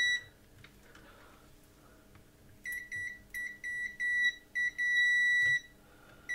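Multimeter continuity tester probing an Atari 130XE board gives a run of sharp high beeps, short ones then a longer tone, close and clear over a faint background hum.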